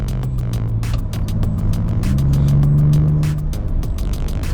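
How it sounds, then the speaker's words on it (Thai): A next-generation Ford Ranger Raptor pickup engine drones and climbs as it accelerates in sport mode, with a turbo whine rising then easing, heard from inside amid clicking road noise. "โห เสียงเทอร์โบลั่นมาเลย พอเปิดโหมดสปอร์ตนะครับ"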